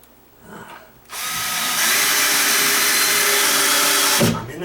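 A 2-inch screw is driven into the stud of a sagging double door's frame by a power drill. The drill gives a loud, steady, close whine for about three seconds, with quiet before and after.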